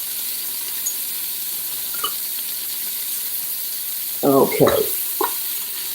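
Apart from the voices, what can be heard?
food sauteing in a pan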